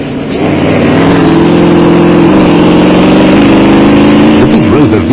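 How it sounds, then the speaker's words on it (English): Big Rover V8 engine in a Super Pave Raceco off-road race car roars loudly and steadily at high revs, a thick droning note holding pitch before wavering near the end. "The big Rover V8 motor in Rob Walk's Super Pave Raceco was sounding healthy"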